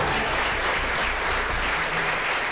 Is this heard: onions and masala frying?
no